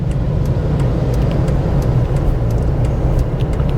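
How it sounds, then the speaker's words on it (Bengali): Busy road traffic near Moti Bagh in Delhi makes a steady, loud rumble of car and bus engines passing close, unbroken and with no talking. "রাস্তায় বেশ গাড়ি চলছে"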